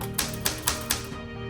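Typing on a Smith-Corona Classic 12 manual typewriter, four sharp evenly spaced key strikes in quick succession, close and crisp, with no voices.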